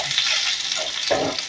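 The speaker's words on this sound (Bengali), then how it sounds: "তেল ছেটা পড়ছে।" Curry leaves hit hot oil for Gujarati dhokla, a loud, close crackling sizzle with sharp spattering bursts.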